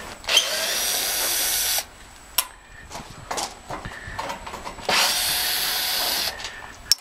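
Cordless Makita power tool running in bursts of loud high whirring, two long runs separated by short triggers, clicks and handling knocks, close by with no talk.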